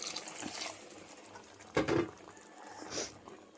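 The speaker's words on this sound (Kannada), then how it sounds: "ಇದು ಸ್ವಲ್ಪ ಗಟ್ಟಿ ಇದೆ ಅಂತ ನಾನು ಚೂರು ನೀರು ಹಾಕ್ತಿದ್ದೀನಿ" Water poured into a thick, simmering butter paneer gravy in a home kitchen, giving a short close splash and pouring burst in the middle with faint trickles around it, no voices.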